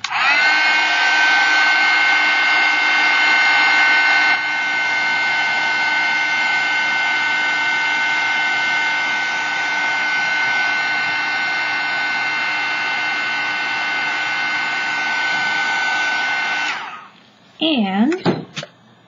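A heat tool blows a steady, loud stream of hot air over a scratch art index card for about seventeen seconds, a constant whooshing whine, then shuts off and leaves brief handling noises.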